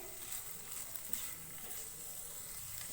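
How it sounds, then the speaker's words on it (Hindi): Chicken cooks in a pan over a high flame after its liquid has dried off, giving a quiet, steady sizzle with faint intermittent crackles, low in level and without speech. "अब हम इसको 1 से 2 मिनट और पकाएंगे। हाई फ्लेम पे पकाएंगे।"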